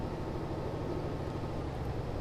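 Truck engine in the Euro Truck Simulator 2 game, climbing a hill after a gear drop: a steady low droning rumble, moderately quiet and even throughout, with no voices.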